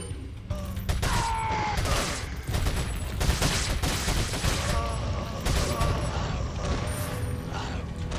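TMP submachine gun in Resident Evil 4 fires in continuous loud rapid bursts during a boss fight, layered with mechanical clanks, creaks and chaotic game effects.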